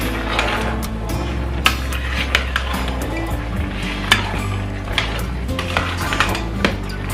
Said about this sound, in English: I had some non-cube and I'll stir it together